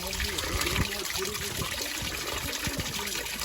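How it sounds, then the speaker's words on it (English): Mountain spring water trickles and splashes near a local church in Pocheon, South Korea, a close, steady babble with faint voices in the background. "So this water is straight from the mountains"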